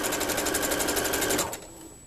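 A sewing machine runs a basting stitch through lace on a Christmas stocking, its fast, even needle rhythm loud and close for about a second and a half before it stops, leaving a faint hum.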